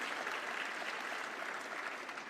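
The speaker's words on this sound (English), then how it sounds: "big round of applause for Chrystia" A crowd at a Ukrainian-Canadian community event with Prime Minister Trudeau applauds for Chrystia in a steady, sustained burst of clapping that stays even from start to finish.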